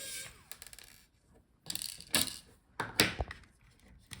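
A screwdriver backs screws out of the USB port board inside an HP Omnibook 3 15 fn0105dx laptop, giving close, intermittent bursts of ratcheting clicks and metallic scrapes separated by short quiet gaps, with no talking.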